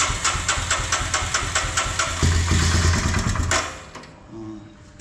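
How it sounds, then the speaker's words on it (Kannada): A motorcycle engine, fully cold after sitting overnight, fires into loud, close, rhythmic chugging pulses for about three and a half seconds, then abruptly falls quiet; no one speaks. "ಒಂದ್ಸಲ ಗಾಡಿ ಇಲ್ಲೇ ಆನ್ ಮಾಡ್ತಿದ್ದೀನಿ"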